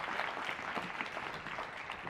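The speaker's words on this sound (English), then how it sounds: "a round of applause" A summit audience applauds, giving steady, dense clapping that is fairly quiet and carries on without a break.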